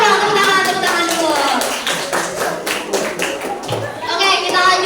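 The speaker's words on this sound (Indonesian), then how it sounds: "Tepuk tangan dulu." Children clap along during a classroom activity, a run of quick bright claps building over the first few seconds before thinning out, with voices talking over them throughout.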